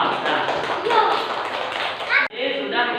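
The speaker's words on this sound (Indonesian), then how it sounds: "kasih tepuk tangan untuk kelompok 2" Children in a grade 4 classroom applaud a student group, a dense patter of small hands clapping together over a few seconds, fairly close, with a teacher's voice and children's chatter mixed in and a brief pause near the end.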